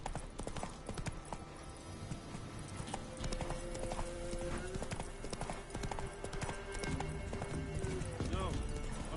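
Clip-clop of Roach the horse galloping in The Witcher 3, steady hoofbeats running throughout over game music and background voices, with a brief whinny near the end.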